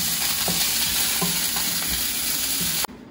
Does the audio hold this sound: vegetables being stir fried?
yes